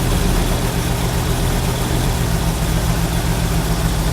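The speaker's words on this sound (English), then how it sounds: "You hear the idle drop down." A car engine idles steadily after a carburetor install, a close, even, low rumble and hum that holds at one level throughout with no clear change and no talking.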